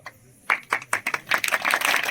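A small crowd claps in honour of a girl who became a state football champion. The claps start scattered after a brief pause, then build into quick, uneven handclapping with voices mixed in.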